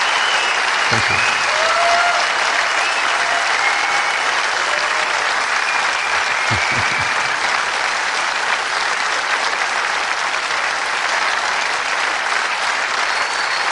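Sustained applause from a large audience at the Terminator 2 3D world premiere in Berlin, a dense steady wash of clapping that fills the whole stretch without letup.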